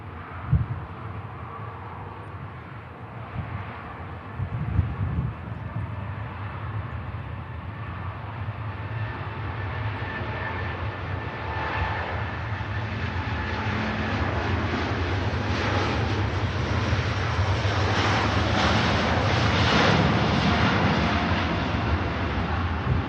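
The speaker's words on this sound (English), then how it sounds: "Dreamliner using quite a bit of runway, but taken to the air" Boeing 787 Dreamliner taking off from a runway at Manchester Airport, a distant jet roar that builds steadily and grows broader as the aircraft accelerates and climbs, with no talking.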